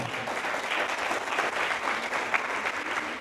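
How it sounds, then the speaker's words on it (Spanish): Steady applause from an audience at a Bible and apologetics course gathering, a continuous dense patter of many hands clapping throughout with no voices over it. "Bueno, un aplauso."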